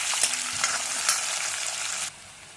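Sliced onion and cumin sizzle in hot oil in a pan, a bright crackling fry with a few sharp stirring scrapes, loud and close, then the sizzle drops suddenly to a quieter hiss near the end.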